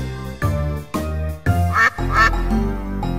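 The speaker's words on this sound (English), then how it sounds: "A duck is in the barn" A duck quacking in a children's barnyard song, loud repeated nasal quacks in a quick series, close and prominent over the music.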